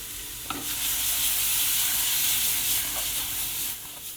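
Baked beans and mushrooms sizzle steadily in a pan on low heat, a continuous frying hiss with a few clinks and scrapes of stirring, close and fairly loud with no talking.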